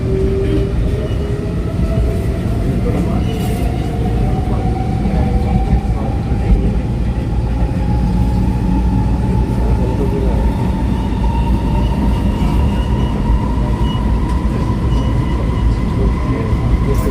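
An SMRT Alstom R151 metro train runs between Khatib and Ang Mo Kio stations, heard from onboard as a loud, steady rumble with a rising electric motor whine and faint rail clatter throughout, with no talking.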